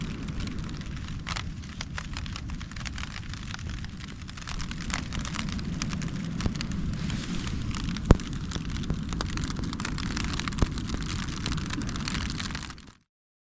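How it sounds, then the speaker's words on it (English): Rain patters steadily on a tent during a hike on the Woody Gap to Hogpen Gap trail, a close, dense crackling wash that swells slightly midway, with occasional heavier drops striking, then cuts off at the end. "I lay here, try to wait this rain out before we pack up and everything."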